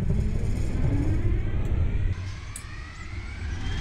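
Locomotive diesel engine running in the Train Sim World video game, a steady low rumbling idle with faint higher whines on top, continuous and fairly quiet.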